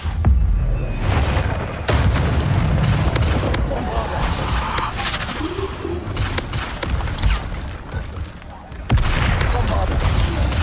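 Bombarda spells explode in a Hogwarts Legacy battle amid rapid spell fire, giving loud, dense booms and sharp cracks that continue almost without a break.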